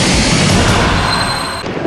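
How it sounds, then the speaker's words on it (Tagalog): A loud, rumbling burst of fireworks with crackling booms that fade, and a faint high whistle trailing through the middle. "Ang pagsabog na naggagandahang ilaw sa kalangitan"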